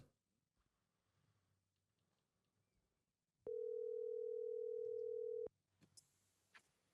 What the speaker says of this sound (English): Can you hear that ringing?